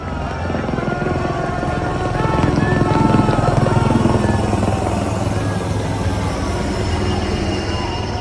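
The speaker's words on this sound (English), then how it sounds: "all the guests were welcomed with flower showers by the helicopter" A helicopter drones steadily with loud rotor chop and engine roar that holds throughout, close and continuous.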